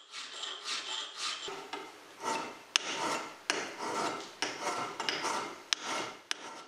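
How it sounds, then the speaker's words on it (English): A hand file rasps across aluminium battery plates on an 1890s shock therapy device in repeated rhythmic strokes, each a close, gritty scrape, with a few sharp metallic clicks between passes. "The aluminium plates are roughed up and ready for a zinc coating."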